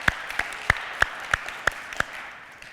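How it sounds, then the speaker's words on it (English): A small audience claps for Janine at a talk on Empathytech: seven sharp, evenly spaced claps in a steady rhythm, close and clear against a quiet room, with no voices. "maybe a round of applause for Janine"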